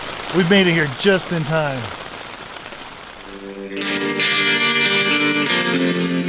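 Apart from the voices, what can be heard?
rain falling on a tent on a mountain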